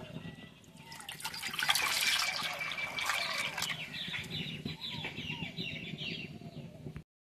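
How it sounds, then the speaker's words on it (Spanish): Water poured into a cooking pot of tomatoes, a close, continuous splashing and gurgling stream that builds then steadies before stopping abruptly, with no talking. "Le voy a echar agua."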